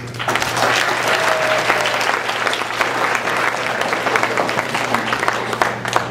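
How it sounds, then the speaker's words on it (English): Sustained applause from wedding guests for the newly married bride and groom, a dense steady wash of many hands clapping at a constant level throughout with a faint hum underneath. "I would like to give a beautiful round of applause for our happily married bride and groom"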